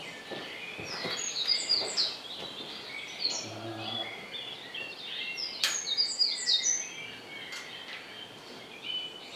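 Unidentified bird calling near a cave at dusk, high chirping phrases repeating through the clip at moderate distance, with faint low rustling and murmured voices underneath.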